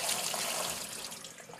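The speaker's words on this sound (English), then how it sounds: "Just give them a quick rinse with some cold water." Cold tap water runs steadily over padron peppers sitting in a colander, a loud, continuous hiss and splash that fades slightly toward the end.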